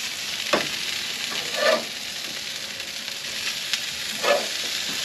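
Barbecue-seasoned burgers sizzle on a smoker at about 275 degrees, a steady crackling hiss with a few soft scraping bursts as the patties are flipped.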